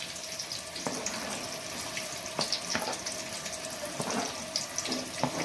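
Onions fry in oil in a kadai at the start of a brinjal and sesame spice dish, making a continuous soft sizzle with a few clear clicks and taps from the pan, close and without talking.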